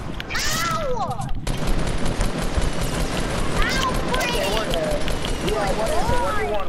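Gunfire in Fortnite, dense bursts of rapid shots and impacts throughout, loud and close, with excited voices talking over the action.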